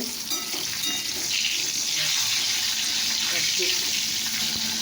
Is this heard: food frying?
yes